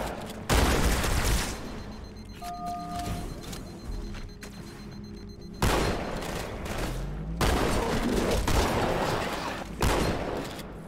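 Shotgun blasts in a Halo 2 co-op match ring out in heavy, booming bursts spaced a second or two apart, loud and dense amid continuous gunfire and game noise.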